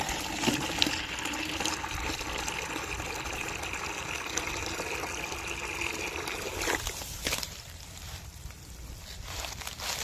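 Water poured into a glued, repaired leaking plastic bucket to test it, a steady close gushing and trickling stream that changes tone as the bucket fills, then eases off toward the end, with no talking.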